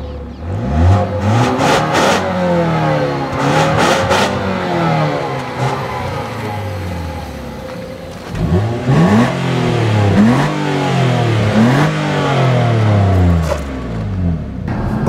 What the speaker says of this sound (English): this 4-cylinder engine doesn't sound great